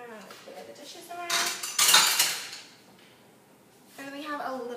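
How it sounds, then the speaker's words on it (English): Dishes and cutlery clattering as plates are cleared around a waffle and vegetarian omelet, a loud burst of clinking in the middle, with talk before and after. "Clear the dishes around."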